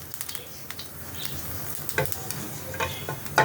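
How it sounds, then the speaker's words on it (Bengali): Dried red chili, a bay leaf and black cumin sizzle in hot oil in a pan, a steady close crackle punctuated by a few sharp pops and scraping stirs. "এই তেলের মধ্যে আমি শুকনো লঙ্কা দিলাম একটা, তেজপাতা একটা, কালো জিরে কিছুটা দিয়ে আরেকটু তেল দেবো আমি"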